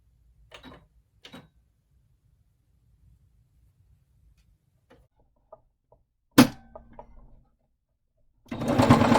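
A domestic sewing machine stitches elastic onto a fabric face mask. Scattered small clicks and taps come first, then a sharp knock and a loud, close burst of stitching at the end.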